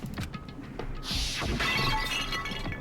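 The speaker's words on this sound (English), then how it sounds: "I grabbed the Monokuma bottle from the shelf and smashed it across her head" A glass bottle shatters loudly across someone's head in a video game, with a sharp crash followed by a sustained spray of breaking glass and tinkling fragments.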